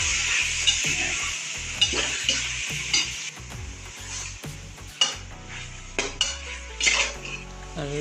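Cleaned goat intestines sautéing in a pressure cooker, a bright steady sizzle broken by repeated metal spoon scrapes and clanks against the pot, close and loud with no talking.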